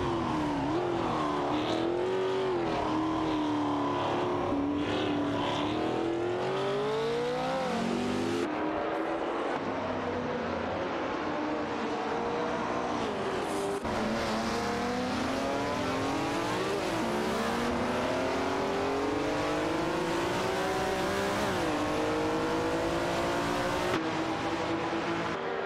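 Race cars in a racing video game, a Porsche 900 Ultra Coupe and a Ford GT40 MPI among them, roar continuously with engines revving up and down through repeated gear shifts, loud and close throughout.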